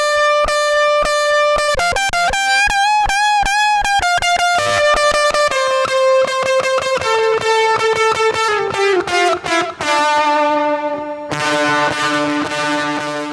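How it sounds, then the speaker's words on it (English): A distorted electric guitar solo with tape echo trails, bent and sustained notes and rapid picked runs repeating behind each phrase, loud and alone with no voices. "we moved on to a stock tape echo that Avid has to give the solo some trails"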